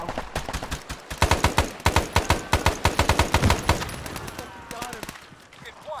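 Rapid bursts of enemy automatic gunfire in a shooter video game, loud and close, with sharp repeated shots clustered in volleys before tapering off, under shouted voices.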